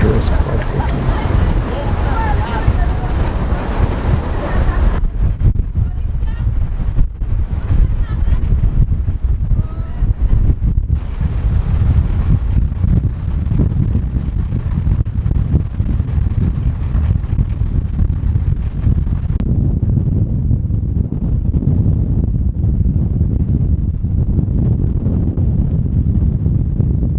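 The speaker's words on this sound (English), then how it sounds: "the storm is picking up and the weather can change here at a moment's notice. The wind speeds are reaching up to 60 miles an hour now" Strong snowstorm wind in Iceland, with gusts near 60 miles an hour, roars and buffets the microphone steadily throughout. Someone talks over the howling gusts.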